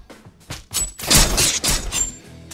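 Crossbowmen in the Happy Room video game loose a volley of shots, a rapid cluster of sharp snapping impacts and cracks that build into a dense burst, then trail off.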